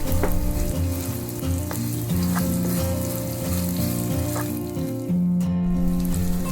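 Chopped red chili stir-fried in a pan, a steady sizzle with stirring running the whole time, partly masked by prominent background music.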